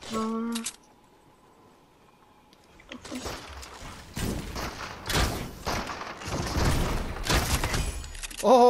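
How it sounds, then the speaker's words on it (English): Fire bow shots and impacts in the Fortnite video game, heard as a dense, loud run of thumps and bursts over several seconds amid game noise, with a player talking. "Oh god, what a fire bow!"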